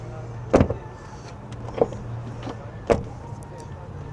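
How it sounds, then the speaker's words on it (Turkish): Doors of a new Tesla Model Y Juniper are shut. Three separate dull thuds are spaced about a second apart over a quiet background with a low steady hum. "kapı kapatma sesinde bir bayağı bir farklılık var"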